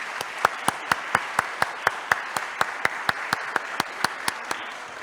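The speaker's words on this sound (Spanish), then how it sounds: "Un fuerte aplauso, por favor, a nuestros tres panelistas." Applause for three panelists at an automotive industry event on electric mobility: a crowd claps steadily, with one close, loud clapper striking an even, regular beat over the softer background patter.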